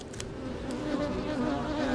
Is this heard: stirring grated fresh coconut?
no